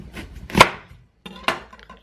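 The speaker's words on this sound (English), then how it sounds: "I'm just gonna cut the big stem off there" A knife cuts the thick stem off a head of broccoli with two sharp, close chopping thunks against the board about a second apart, with quiet pauses between them.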